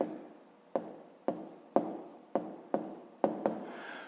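A pen writing numbers on paper during a fifth-grade maths exercise: seven crisp, evenly spaced taps and scratches, each fading quickly, close and clear with no talking.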